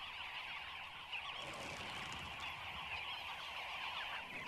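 Dozens of birds in a busy flock at an African waterhole keep up a dense, continuous wash of honking, squawking calls, loud and steady throughout with no talking.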